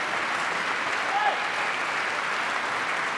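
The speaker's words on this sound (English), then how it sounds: "The crowd on their feet there, clapping for Pablo and for, of course, our winner Popov there" A badminton crowd on its feet applauds the players, steady clapping that fills the whole moment at an even level while a commentator speaks over it.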